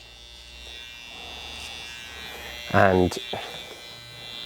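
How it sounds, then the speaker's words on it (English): A small electric hair trimmer buzzes steadily while cleaning up and curving the edge of a faded haircut, a close, continuous hum with one brief louder burst as the blade meets the hair and a short spoken word. "I'm going to clean this up just with my little trimmer"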